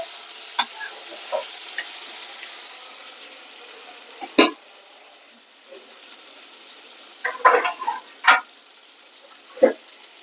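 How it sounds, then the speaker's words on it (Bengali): Pointed gourd, prawns and tomato frying in spice masala in a pan, a soft continuous sizzle broken by several sharp scraping stirs of a spatula. "পটল চিংড়ি আর টমেটো কষানোটা মশলার সাথে একদম হয়ে গেছে।"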